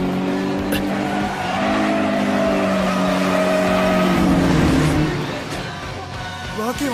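A racing car tearing past in the Initial D anime, a loud sustained engine roar with shifting pitch that peaks and fades, under music and a talking voice.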